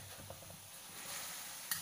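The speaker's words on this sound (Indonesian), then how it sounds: "Selepas itu kita gaul-gaul sama rata." Sabah yellow noodles being stirred in a pan give a soft, continuous sizzle with light scraping and stirring sounds, close and quiet, with one small clink near the end.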